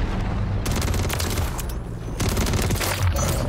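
Rapid bursts of WSP Swarm SMG fire from Modern Warfare 3, loud and dense, with near-continuous automatic shots and a short lull midway.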